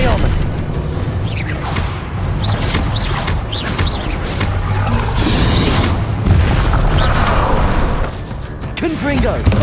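Spell explosions from Hogwarts Legacy, repeated booming blasts and whooshing bursts crashing one after another in a frantic magical duel, loud and continuous, with a voice shouting over the combat.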